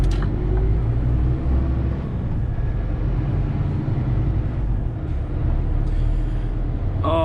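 A Scania P280 truck engine labors under full throttle, a loud continuous low rumble and drone heard from the cab in city driving, with a sharp click or hiss at the end.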